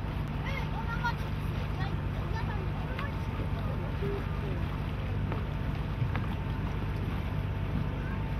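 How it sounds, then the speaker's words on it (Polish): A boat engine hums steadily across the water of Lake Niegocin, mixed with wind buffeting the microphone and faint splashing, continuous and fairly loud throughout. "Dziwne, wypłynęli już tak daleko i jeszcze płyną na silnikach."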